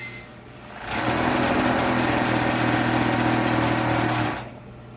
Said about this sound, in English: You see how she holds the fabric as she puts it through the serger.